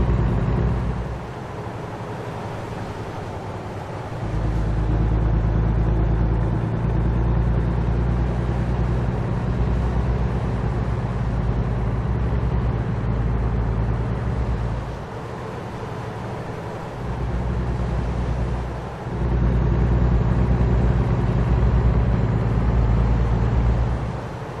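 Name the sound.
truck driving without trailer in video game American Truck Simulator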